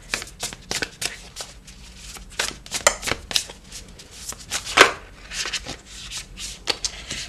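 Tarot cards shuffled by hand, then one turned over, with rapid riffling bursts and sharp papery snaps in an irregular rhythm, close and fairly loud, no talking over it.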